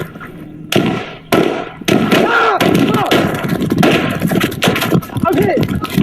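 Rapid gunshots crack out in bursts during a police officer-involved shooting in Indianapolis, loud and close, with sharp bangs over ongoing shouting and commotion.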